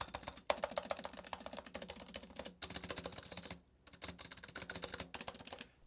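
Clacky, rapid keypresses on a Razer Huntsman V2 keyboard, stabilized keys included, typed continuously in close, dense bursts with brief pauses and no talking.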